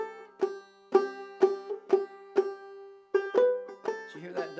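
A banjo picks a short phrase of bright plucked notes from the fiddle tune "Wagoner One Step," one fifth-string note slurred by a hammer-on, with brief pauses between plucks.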